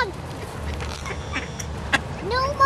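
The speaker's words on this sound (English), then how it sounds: "Hey, you hybrid mocha freeze duck." A black-headed mocha freeze hybrid duck quacks a few times outdoors, short nasal calls over steady background noise with faint voices nearby.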